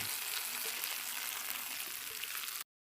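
Steady, dense sizzle of dal poured into a hot tadka tempering with red chilli, loud and continuous for over two seconds, then cutting off abruptly.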